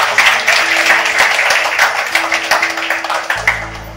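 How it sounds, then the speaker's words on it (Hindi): An audience claps together to welcome a guest speaker at a Christian gathering, a steady burst of many hands filling the room for about three seconds before fading, with no voices over it. "आइए हम ताली बजाकर स्वागत करें।"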